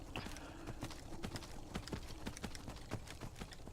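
Hooves of a horse ridden at speed in the video game Skyrim, a steady rapid clip-clop rhythm that runs without a break, moderately quiet and with no talk over it.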